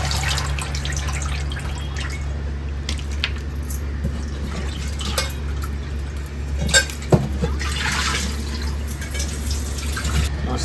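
Barramundi fish being washed in water, with steady dripping and splashing of water alone at close range, occasional louder sloshes over a constant low hum.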